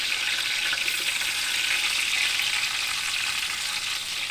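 Onions frying in hot ghee, a loud, even, hissing sizzle that stays steady and close throughout, with no voices.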